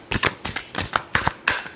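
Tarot deck being shuffled by hand at close range, six quick crisp riffling bursts in an even rhythm, each a short papery flutter separated by brief gaps.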